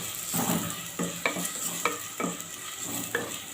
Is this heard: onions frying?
yes